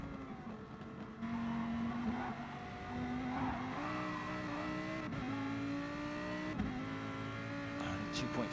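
Lamborghini GT3 race cars in a video game league race at Monza drone with steady high engine notes that rise and fall through gear changes. The sound is continuous and mid-level, with occasional sharp clicks.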